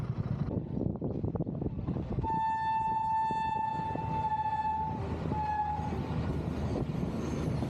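A loud train rumbles past at close range at a railway crossing, its horn blaring in a long sustained blast over the clatter of the wheels.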